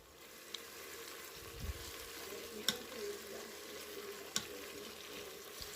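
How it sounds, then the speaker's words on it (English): Chopped onions, green chilli and fresh curry leaves sautéing in oil, a faint, steady sizzle with a few sharp clicks of stirring against the pan. "So just add it to the oil and give it a nice mix"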